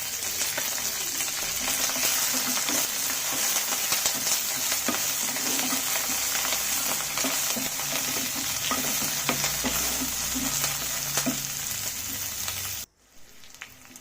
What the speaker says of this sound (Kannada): ಕರಿ ಲೀವ್ಸ್ ಹಾಕಿದ್ಮೇಲೆ 1 ಕಟ್ ಮಾಡಿರೋಂಥ ಈರುಳ್ಳಿ ಚೆನ್ನಾಗಿ ಫ್ರೈ ಆಗಬೇಕು, ಬ್ರೌನ್ ಆಗೋ ತನಕ ಚೆನ್ನಾಗಿ ಫ್ರೈ ಆಗಬೇಕು